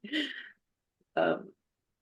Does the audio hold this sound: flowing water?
no